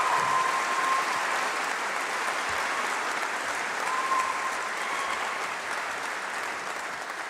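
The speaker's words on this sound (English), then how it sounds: "I hope your hands don't hurt after all that clapping." Sustained applause from an audience at a graduation congregation, a steady, dense spread of clapping that holds at an even level for over seven seconds, slightly reverberant as in a large hall.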